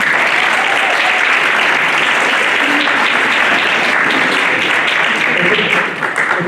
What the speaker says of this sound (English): Can everybody give a round of applause?